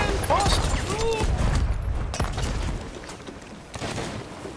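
Gunfire and cannon-like booms from the pirate video game Sea of Thieves, dense and continuous over game noise and music while a player talks.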